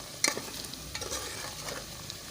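Onions fry in a pan until lightly browned, a soft crackling sizzle with a sharp scrape at the start and a few light stirring strokes, close but fairly quiet, with no voices.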